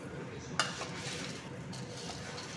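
Boondi mixture with flattened rice, garlic, salt and chili powder being stirred in a pan, soft scraping and a sharp metal clink of the spoon against the pan, faint and close, with a voice talking quietly.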